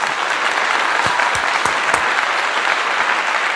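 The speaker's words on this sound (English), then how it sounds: "Let's clap it up." Steady, dense applause from a crowd fills the whole stretch at an even level, with a few sharper individual claps standing out near the middle.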